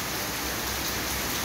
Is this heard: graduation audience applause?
no